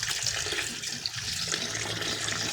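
Saba bananas rinsed under a running tap, with a steady, close, continuous rush of water splashing into a sink for the whole stretch and no voices.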